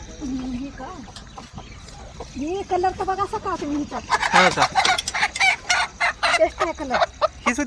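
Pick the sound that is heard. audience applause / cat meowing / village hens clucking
village hens clucking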